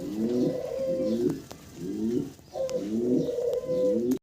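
Koka fancy pigeons coo in repeated low, rolling phrases, several overlapping birds calling close by in a steady rhythm with brief pauses between bursts.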